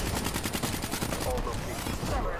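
Rapid automatic gunfire in a Call of Duty match, loud, dense bursts of shots in quick succession with echoing reports trailing off near the end.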